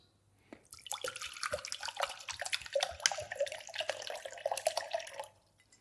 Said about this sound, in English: First, add your liquid. I'm using water, about 8 ounces.